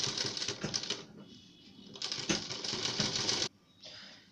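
A sewing machine stitches around a garment's collar neckline, running in quick rattling bursts with brief pauses between them, close and fairly quiet.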